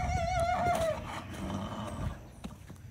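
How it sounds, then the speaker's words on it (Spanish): A horse on a ranch in Baviácor, Sonora gives a loud, close whinny lasting about a second, then quieter stirring and a few hoof sounds from the herd. "apenas dio punto para poder salir y darle comida a los caballos"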